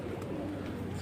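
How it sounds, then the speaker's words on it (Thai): Pigeons coo softly nearby at the Thewet pier on Bangkok's Chao Phraya River, over a low, steady background hum, a brief murmuring call. "ท่าเรือเทเวศนกเยอะเลยครับ ทั้งนกทั้งปลา"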